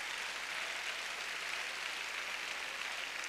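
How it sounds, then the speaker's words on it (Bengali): An audience applauding at a seminar: a dense, even wash of many hands clapping, fairly faint and steady, with no gaps. "হাততালি হোক এটার জন্য।"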